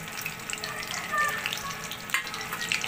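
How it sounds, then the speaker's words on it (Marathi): Peanuts frying in hot oil, a dense close crackling sizzle with small pops and bubbling, fairly steady and loud, with no talking. "शेंगदाणे पण तळून घ्यायचे व्यवस्थित."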